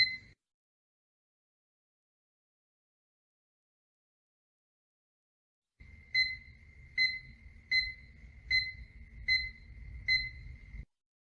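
After a silent pause, a wireless distance sensor's buzzer beeps repeatedly in an even rhythm, six short electronic tones over a low hum, fairly quiet, signalling an obstacle within 50 cm.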